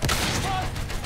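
Machine gun fire in the World War I shooter Battlefield 1, a dense, continuous burst of loud gunfire with battle noise throughout.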